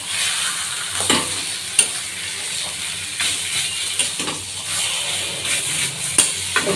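Taro greens frying in a pan with garam masala, stirred steadily; a continuous close sizzle and hiss runs throughout, broken by repeated scraping strokes of a spatula against the pan.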